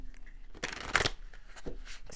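Tarot oracle cards being shuffled and drawn from the deck, a few soft papery riffling bursts close by, with quiet gaps between them.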